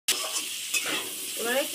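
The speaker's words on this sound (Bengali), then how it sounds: "এর মধ্যে দিয়ে দেবো সিদ্ধ করা ছোলাটা, আগে থেকে ভেজে নিই, এই একসঙ্গে দিয়ে দিয়ে ভেজে নেবো।" Boiled chickpeas frying together with potato and pumpkin pieces for a vegetarian curry give a steady, close sizzle with a few scraping stirs, and no voices.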